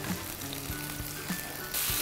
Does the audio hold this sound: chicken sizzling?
yes